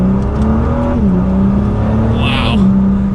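A 2019 Nissan GT-R Track Edition in manual mode pulls hard through its gears, a loud, steady engine drone that drops in pitch at each upshift before climbing again, heard close from inside the car.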